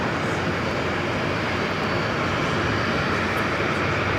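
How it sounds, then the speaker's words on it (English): A Nippon Cargo Boeing 747-8 taxis along runway 22 right at JFK airport, producing a loud, steady jet-engine roar that fills the whole stretch without letup. "The Nippon Cargo Queen 747-8 aircraft using runway 22 right as a taxiway."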